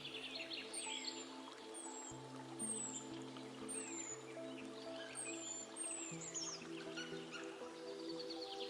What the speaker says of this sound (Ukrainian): І звуки природи лісу.